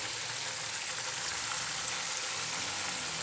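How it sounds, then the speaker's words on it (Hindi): A whole chicken fries in hot oil for biryani, giving a loud, even, continuous sizzle close up with no voices. "अभी दूसरा साइड फ्राई करेंगे"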